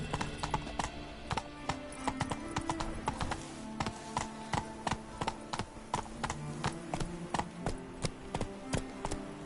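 Roach, a horse in The Witcher 3, gallops with steady, crisp clip-clop hoofbeats in a fast repeating rhythm, moderately quiet and heard alone.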